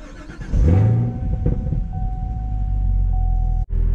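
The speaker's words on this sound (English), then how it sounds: "With the car being started" A 2018 Chevrolet Camaro ZL1 1LE in neutral fires up with a loud crank and sharp rising bark, then settles into a steady, deep idle rumble close by.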